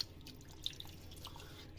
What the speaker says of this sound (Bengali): হাতে মশলাগুলো একটু পানি দিয়ে ধুয়ে দেব